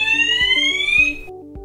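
A C-TEC Hush-Pro fire alarm in a flat sounds alone, with a loud, steady electronic tone and a rising high whoop that keeps repeating, backed by a regular pulsing beat.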